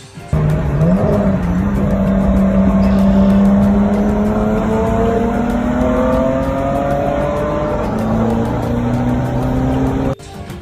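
A supercar's exhaust roars from playback, a loud, steady engine drone that slowly climbs in pitch as it revs, continuous and without speech.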